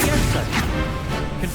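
Confringo blasting spell striking in Hogwarts Legacy, a dense continuous crash and rumble of magical impact filling the short moment, loud and close with no pause.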